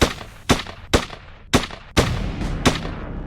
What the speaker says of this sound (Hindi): बाहर निकलते ही शूटर बिल्डर पर फायरिंग करने लगता है। 1-2 नहीं 7 राउंड फायरिंग करता है।